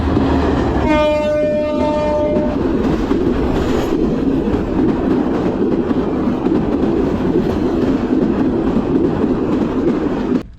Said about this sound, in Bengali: অনেক জোরে ট্রেনটি গেল আমার সামনে দিয়ে